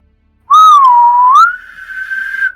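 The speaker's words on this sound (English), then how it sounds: "this really strong whistle comes out over the distance" A strong, sustained whistle rising and holding its tone for about two seconds, with a brief lift in pitch midway, sounding alone against silence.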